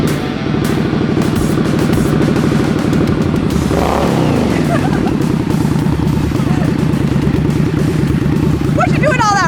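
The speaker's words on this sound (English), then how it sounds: "What you doing all that revving for?" An Indian Scout Bobber motorcycle engine idles loudly and steadily, then revs up and falls back midway, with a babble of voices faintly mixed in.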